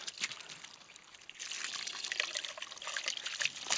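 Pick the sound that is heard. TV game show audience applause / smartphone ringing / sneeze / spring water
spring water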